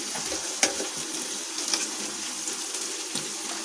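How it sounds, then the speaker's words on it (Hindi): Peas and onions fry in a pan for samosa filling, a steady close hiss and sizzle with a few light clicks of stirring, and no talking. "जब तक ये हमारे मटर और प्याज भूनते हैं"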